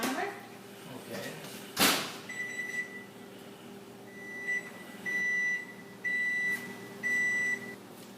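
A kitchen timer being set while making focaccia, a series of bright electronic beeps in short bursts and longer held tones after a sharp knock or clunk, with brief speech around them.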